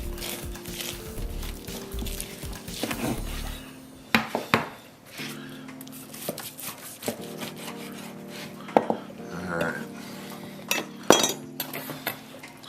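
A knife carves a tomahawk steak off the bone on a wooden board, giving close, intermittent scraping and rubbing with sharp clinks and taps scattered throughout.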